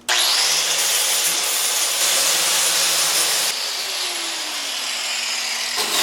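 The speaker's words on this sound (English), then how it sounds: "now let's get that angle grinder going" An angle grinder works on a metal go-kart frame, a loud, continuous high-pitched whine with gritty abrasive hiss, its pitch dipping slightly partway through as the load changes.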